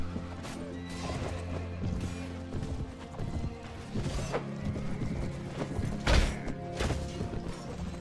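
Horse hooves clip-clop steadily in Mount & Blade Warband, with a whinny and some mechanical clatter and thuds mixed in at moderate loudness.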